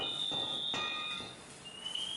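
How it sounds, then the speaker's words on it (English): A firefighter's PASS alarm sounding during a trapped-firefighter training drill: a shrill, continuous high electronic tone that shifts pitch partway through, steady and fairly loud against a faint background rumble. "following the sound of the pass alarm to get to the trapped firefighter as fast as possible."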